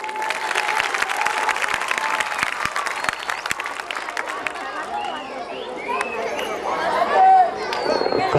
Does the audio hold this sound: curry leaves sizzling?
no